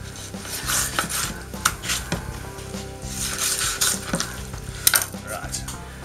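Knife slicing the fins off a dogfish, whose skin is rough like sandpaper, heard as close, repeated rasping cuts and knocks on a board over a low, steady hum.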